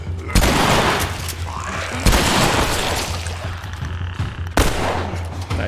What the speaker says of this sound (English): Dude, I love the shotgun.